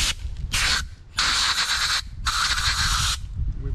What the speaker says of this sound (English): So luckily for us, we got an air compressor.